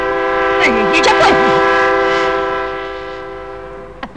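A train passes close by, its horn sounding in a long loud blast with rumbling wheels beneath, while a voice cries out over it as the horn fades toward the end.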